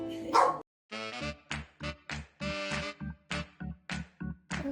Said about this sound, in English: And a noisy dog.